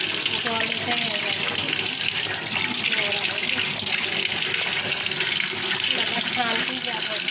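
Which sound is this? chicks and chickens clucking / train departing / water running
water running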